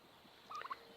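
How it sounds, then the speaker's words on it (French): A turkey gobbles once in a short, faint burst over quiet background, heard alone. "je pense que c'est quand même un dindon"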